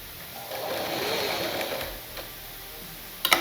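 Sewing machine running steadily as it stitches fabric for a Katori blouse, a close, continuous mechanical whir for about two seconds, then a pause and a few sharp clicks at the end.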